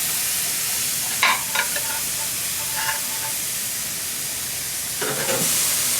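Watermelon steaks sear on the direct heat side of a grill with a continuous bright sizzle and hiss, punctuated by a few soft clinks and pops.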